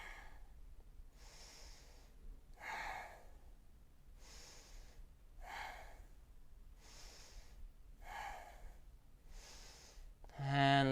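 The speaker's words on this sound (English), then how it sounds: "let's take 5 breaths here" Slow, steady breathing held through a yoga back bend, with about five regular inhale and exhale cycles repeating evenly, soft and close.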